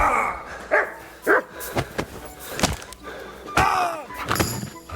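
Dog barking in Kingdom Come: Deliverance 2, several sharp loud barks spread through the clip amid thuds and scuffling of a fight.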